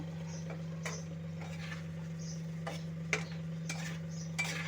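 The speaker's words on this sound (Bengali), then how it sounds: "ভালো করে মিশিয়ে নেব" Potatoes and pointed gourd are stirred with cooked-down spices and sour yogurt in a pan, producing sparse utensil taps and scrapes over a steady low hum, faint and without speech.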